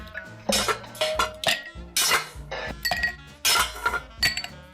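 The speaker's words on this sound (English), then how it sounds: "Next, we're gonna add some ice." Ice cubes drop into a glass, producing a series of sharp, bright clinks in irregular bursts, close and fairly loud.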